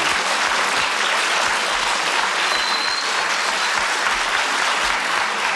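A studio audience at a 1973 taping of the TV panel show I've Got a Secret breaks into loud, dense applause that holds steady for several seconds, with no voices over it.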